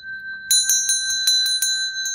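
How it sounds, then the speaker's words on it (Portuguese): A bright, bell-like notification chime rings in a quick run of about eight clear metallic strikes, loud and close, following a faint low murmur at the start. "acionar o sininho das notificações"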